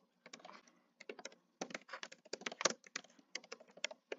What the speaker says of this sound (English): I typed in transparent gradient.